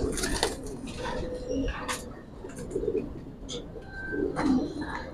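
Giribaz pigeons coo repeatedly at a pigeon seller's, soft rounded coos recurring every second or so amid faint chirps and background murmur of people talking.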